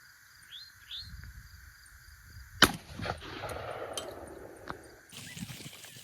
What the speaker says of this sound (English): getting ready to shoot.